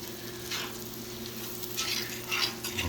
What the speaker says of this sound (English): We got to get these steaks on here